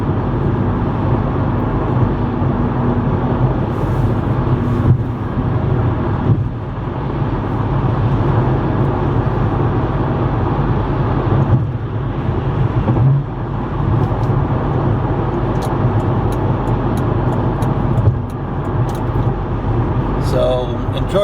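A car cruises at night with a steady, droning road and engine rumble from inside the cabin that holds for about twenty seconds, with faint higher clicks late on and some background talk.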